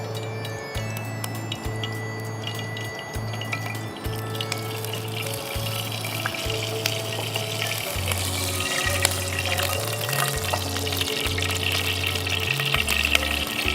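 Water runs steadily from a kitchen tap as hands are washed, a continuous close splashing rush under a low tonal hum, with no talking.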